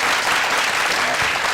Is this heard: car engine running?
no